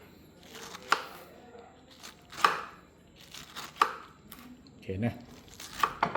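A knife cuts through a pineapple in about five firm, evenly spaced chops with crunchy, fibrous cracks, and a brief spoken word is heard between them.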